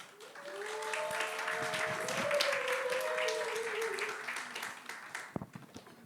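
A church youth-service congregation claps for a speaker coming forward to share a testimony, the applause swelling and holding for several seconds before tapering off, with a voice faintly beneath it.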